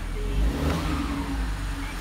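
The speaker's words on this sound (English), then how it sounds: "Seems to be running good. Just do a little rev." An Audi RS3 engine, just reconnected on a salvaged car, idles steadily with a brief rev swelling in the middle, loud and close with a low rumbling tone.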